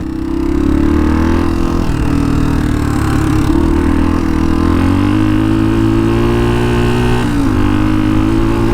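A 40-year-old Honda dual sport motorcycle engine runs loud and close, a steady throaty drone whose pitch shifts slightly as the throttle varies.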